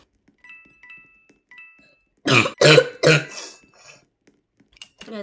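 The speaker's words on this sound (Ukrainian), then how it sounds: "Сори за то, що покашлял дуже." Three harsh coughs in quick succession, close and loud, after a stretch of near silence with faint ticks and a soft tone.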